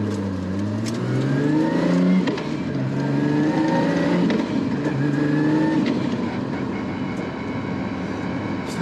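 A Nissan R32 Skyline GT-R with a 3.2-litre RB32 and a Garrett G45-1500 turbo pulls away on the street, its engine note rising steadily through the gears, loud and close throughout.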